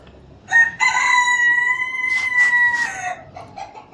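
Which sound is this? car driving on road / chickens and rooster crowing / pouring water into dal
chickens and rooster crowing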